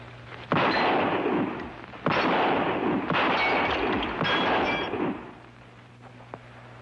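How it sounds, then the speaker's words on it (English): Gunshots in an old Western TV episode, sharp cracks and echoing volleys ringing out in three or four bursts, loud and close, fading out near the end. "I never saw shooting like that before."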